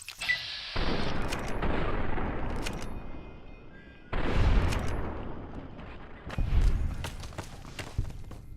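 Heavy gunfire in Fallout New Vegas during a big firefight, loud sustained bursts of shots and booms coming in several waves with brief lulls between them.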